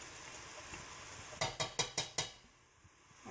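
Onion sizzles softly in a pan while pilau is being made, with a run of five quick metallic taps from a spoon or spatula against the pan partway through.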